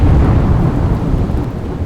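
A heavy thunderstorm over the Babra area of Gujarat after four days of continuous rain, with a loud, deep rumble of thunder blended into dense, steady rainfall that fills the whole moment.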